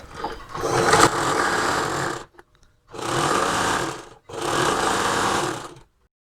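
A sewing machine stitches a saree blouse in three loud, close bursts of rapid steady whirring, separated by short pauses, with no talking.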